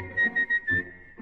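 Melodic whistling from a 1953 Italian popular song recording, a few short phrases in a steady rhythm, fairly loud and up front with soft accompaniment underneath.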